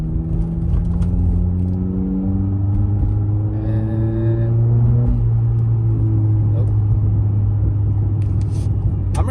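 A Honda Accord with muffler and resonator deleted drives on a highway at night, its exhaust droning as a loud, steady low hum, with rising gear pulls and someone speaking briefly over it.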